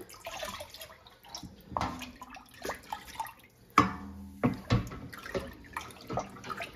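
Lemon juice is poured from a cup into a homemade ginger beer mixture, giving a few seconds of wet splashing and trickling with drips, fairly close and moderately loud, no talking over it.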